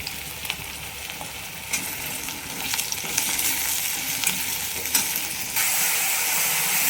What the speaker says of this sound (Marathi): इकडं भाजी गरम व्हायला लागते